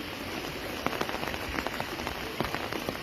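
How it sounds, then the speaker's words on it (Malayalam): Heavy rain falling steadily beside the flooding Periyar river in Kerala, a dense continuous hiss with scattered sharper drop impacts, close and fairly loud with no voices. "ഈ മഴ ഇങ്ങനെ നിന്നാൽ വലിയ പെട്ടെന്ന് വെള്ളം കയറും."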